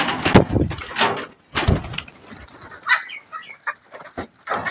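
Local free-range hens in a winter coop cluck and squawk close by in short irregular bursts, with some scuffling and knocking between calls.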